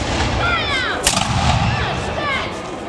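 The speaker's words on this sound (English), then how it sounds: "Fire shots above his head." At an English Civil War reenactment during a heritage festival, a musket fires one sharp, loud crack, with fainter shot reports and shouting voices around it.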